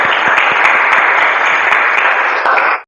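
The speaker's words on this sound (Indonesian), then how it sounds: "tepuk tangan untuk kita semua." A classroom of students claps together after a lesson game, a dense, steady burst of applause that holds evenly for nearly three seconds before cutting off sharply.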